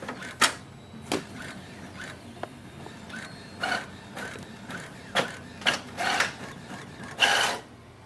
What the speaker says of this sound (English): It will print the nozzle check sheet.